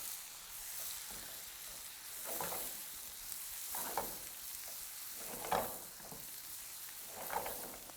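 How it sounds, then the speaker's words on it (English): Diced onions sizzle and fry over very high heat in leftover bacon grease, with a steady hiss broken by several scraping stirs of the pan spaced a second or two apart; no one speaks. "now we're going to add our small diced onions right into the pan"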